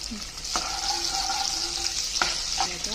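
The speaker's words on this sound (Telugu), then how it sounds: "ఆవాలు నాలుగు పచ్చిమిరపకాయలు వేస్తున్నా" Mustard seeds and green chillies fry in hot oil for an aloo masala gravy, giving a steady close sizzle with a few sharp pops and crackles over about three seconds.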